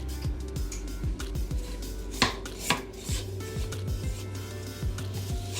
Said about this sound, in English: At this point, you want to stop and scrape your bowl.